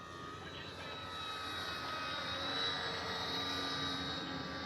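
A Dynam ME Bf-109 RC model warplane with retracts and landing flaps deployed, flying in to land; a steady, fairly faint engine drone holds through the whole stretch, gently swelling as it passes, with no voices.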